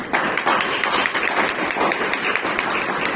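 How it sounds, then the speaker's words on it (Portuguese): A church congregation breaking into dense, sustained applause, many hands clapping together at close range with steady loudness throughout. "eu gostaria que toda a igreja aplaudisse a Deus pela vida do pastor William"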